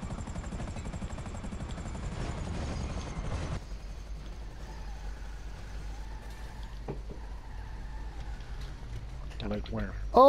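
A helicopter in GTA Online drones loudly with a dense engine and rotor roar for the first few seconds, then drops to a thinner, quieter whine mixed with other game noises.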